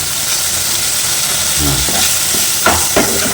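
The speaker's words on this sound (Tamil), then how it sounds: "இந்த பக்கம் குடலே வறுக்குது" Chicken intestines frying with a steady sizzle and constant crackling hiss, interrupted by a few stirring scrapes and clatters near the end.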